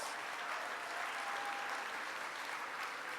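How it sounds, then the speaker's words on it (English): Audience applause at a Texas youth summit, a steady, dense wash of clapping filling the room for the full stretch without letup. "Let's give Sid Miller a round of applause"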